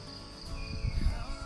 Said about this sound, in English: That's the sound of a healthy forest